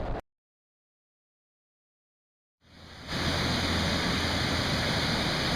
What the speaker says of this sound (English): This is the waterfall over Elkhart before we go downstream and get into the St. Joe.